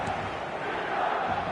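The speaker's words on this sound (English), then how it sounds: "the passionate crowd demands. Red and black wherever you turn, the San Siro is buzzing" Football video game crowd at the San Siro, a dense steady buzz of massed fans filling the stadium, constant and loud with no breaks.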